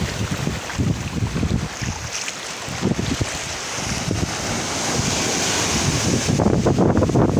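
Sea waves at Lampuuk beach in Aceh wash in a steady, broad roar under strong wind buffeting the microphone, loud and close with no talk.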